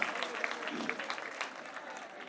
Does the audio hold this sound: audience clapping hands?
yes